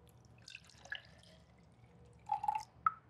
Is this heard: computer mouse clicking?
no